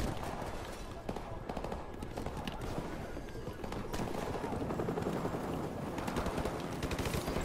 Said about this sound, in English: People shooting at us already again